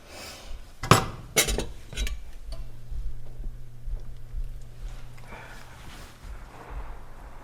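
A spoon clinks against a pot while curry chickpeas with seasoning salt are stirred, a few sharp metallic knocks early on followed by quieter scraping and faint kitchen hum.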